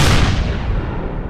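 A single heavy gunshot boom from the video game Empyrion Galactic Survival, loud and close, with a long decaying rumble and no talk over it.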